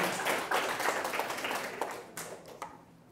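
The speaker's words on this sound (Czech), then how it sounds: "No, zatleskejte si." Audience members at a talk clap for themselves, a dense burst of applause that thins into scattered individual claps toward the end.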